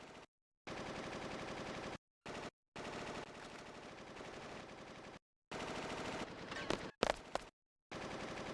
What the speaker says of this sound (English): What was that? Gunfire?